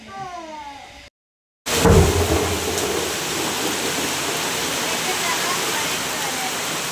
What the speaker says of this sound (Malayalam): ഇവിടെ ആണെങ്കിൽ ഭയങ്കര മഴ കേട്ടോ